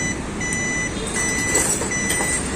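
A motorcycle's signal light beeper, just restored after a switch repair, sounds as a steady run of repeating electronic beeps over a low idling engine hum.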